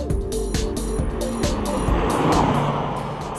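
A Citroen DS3 1.6 litre VTI hatchback drives hard with a steady, loud engine drone and a sharp pulsing rhythm, rising slightly in intensity toward the end, with no voices present.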